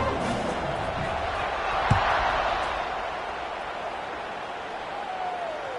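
Steady roar of a stadium crowd in an NCAA 26 college football video game before a kickoff, a broad wash of noise holding through the clip with a brief thump near the middle.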